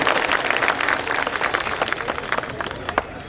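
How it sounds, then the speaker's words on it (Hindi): Loud, dense applause fills a Suheldev Rajbhar Jayanti political rally, a sustained roar of many hands clapping close and unbroken for a few seconds. "जोरदार तालियों से स्वागत कीजिए।"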